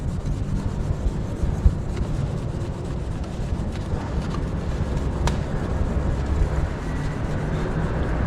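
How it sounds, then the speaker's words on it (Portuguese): Cloth rubbed firmly over plastic scooter fairings to work in a protective vitrifying coating, producing a steady, continuous close-up rubbing hiss with no pauses for the full length. "E aqui tem que esfregar e colocando força"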